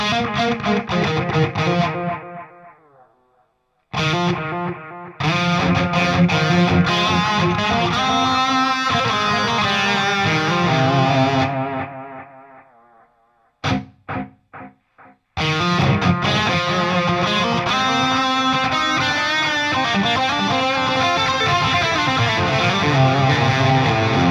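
A loud distorted electric guitar plays chords and sustained notes through a Jeff Loomis Devil's Triad analog distortion pedal, with a dark, gritty overdriven tone, breaking off briefly before resuming.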